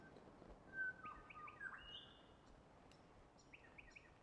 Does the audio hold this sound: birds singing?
yes